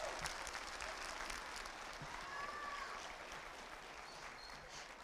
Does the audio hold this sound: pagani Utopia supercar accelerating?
no